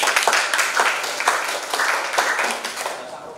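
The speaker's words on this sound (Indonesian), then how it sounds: "berikan tepuk tangan untuk mereka" Classroom students clapping for a presenting group, a moderately loud patter of many hands with uneven bursts, carried over faint background voices.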